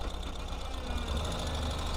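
A 2025 Ural Gear Up sidecar motorcycle engine thrums steadily as it rides and shifts gears, a dense, continuous rumble with wind noise and no pause.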